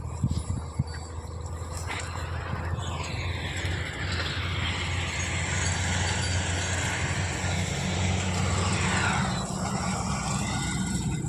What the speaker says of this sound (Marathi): रस्त्याने गाड्या चालल्या